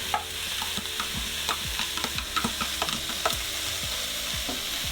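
Minced ginger and garlic fry in a pan for a coconut-milk fish curry, a steady sizzle broken by repeated scraping stirs and light utensil knocks, no talking.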